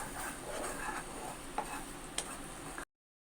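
Thickening jaggery syrup stirred in a pan for sesame laddu, a soft bubbling simmer with light scraping strokes and two faint taps before it cuts off.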